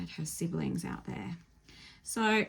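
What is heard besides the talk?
No everyday noises stand out.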